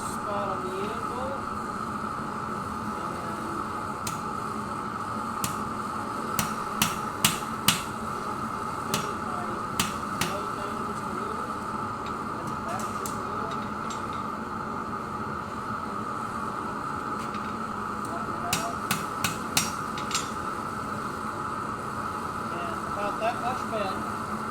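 Hammer blows forging a steel spatula on an anvil, sharp metallic strikes coming in small clusters over a steady droning background hum, with a voice talking at times.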